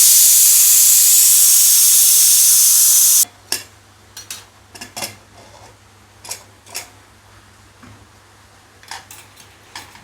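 Steam rushes out in a loud, steady hiss as a kitchen pressure cooker is opened, cutting off sharply after about three seconds. It is followed by scattered soft clinks and handling knocks of the lid and pot.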